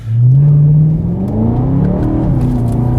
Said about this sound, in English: the downshifts in the DCT are something